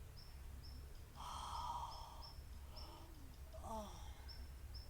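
A person yawning while stretching during a yoga session: one long, breathy, voiced yawn close by, then a shorter second one, over a quiet steady background with faint, regularly repeating high chirps.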